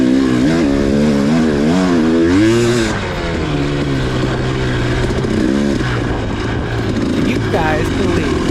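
A 2018 KTM 300 dirt bike races in Muskegon, its engine close and loud, revving up and down in repeated rising and falling surges, with someone talking over it.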